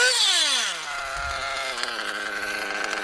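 A small high-revving .21 nitro RC car engine whines loudly, its pitch dropping as it throttles down and settles into a buzzing, steady idle, close by.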